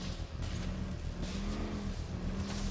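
A Batmobile-style car engine revs in Batman: Arkham Knight, a loud sustained roar with wavering pitch and short surges that suggest acceleration and movement.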